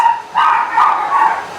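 Dogs indoors bark at someone at the door, three loud close barks in quick succession with no talking.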